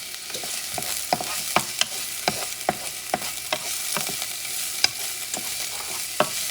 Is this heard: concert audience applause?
no